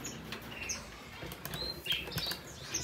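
A Gouldian finch takes off with quick, soft wing flaps, mixed with light rustling and a few high chirps nearby, fairly quiet throughout.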